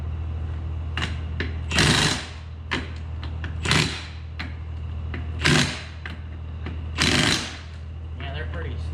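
An impact wrench set to a low power setting fires short rattling bursts, about five in a row with pauses between, snugging wheel nuts on a skid loader over a steady engine idle.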